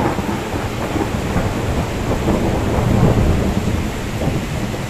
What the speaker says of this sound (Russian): пошел ливень. Мощный дождь, грозою,